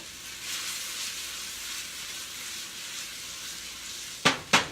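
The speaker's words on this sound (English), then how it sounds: "Nice sizzle going." Chicken frying in butter in a pan gives off a steady, close sizzling hiss, ending with two sharp crackling pops.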